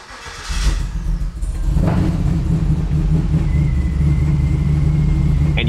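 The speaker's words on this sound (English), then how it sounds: "Now we can go ahead and start the car." A car engine cranks and catches, then settles into a steady, loud idle rumble that runs to the end, with a faint high whine above it.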